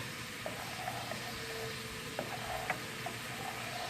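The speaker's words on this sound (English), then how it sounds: "now you just want to keep stirring. Mix it all in nice." Strawberry and bhut jolokia ghost pepper jelly mixture bubbles quietly in a pot, with a soft steady hiss and a few faint utensil taps and scrapes from stirring.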